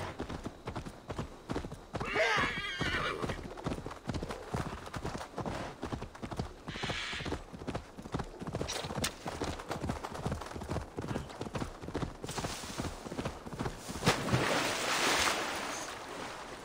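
Hoofbeats of a horse being ridden in the video game Assassin's Creed Valhalla, a steady rhythmic clip-clop running throughout with a whinny and rushing water or wind swelling in the background.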